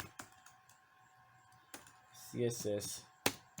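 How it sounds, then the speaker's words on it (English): Typing on a computer keyboard, with a short burst of quick clicks in the middle and a few isolated taps elsewhere, heard close and fairly soft over a faint steady hum, with a voice speaking briefly. "let me type it here"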